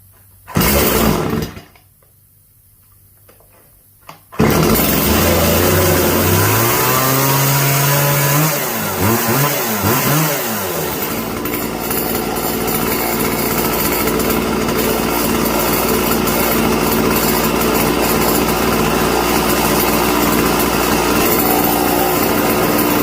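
A chainsaw fitted with the wrong chain starts with a roar, drops briefly, then revs up and down before settling into a loud, steady no-load high-speed whine.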